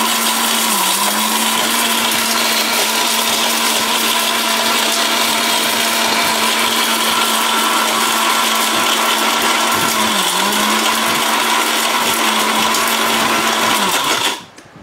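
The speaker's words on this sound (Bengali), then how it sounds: "দেখেন হলুদ কিন্তু একবারে গুঁড়া হয়ে গেছে, একদম গুঁড়া হয়ে গেছে" An electric blender grinds turmeric into powder, a loud steady motor whine running continuously at close range with slight pitch dips, then cutting off abruptly at the end.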